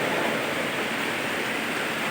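Heavy rain pouring down steadily beside a village road, a dense, loud, unbroken hiss with no pauses.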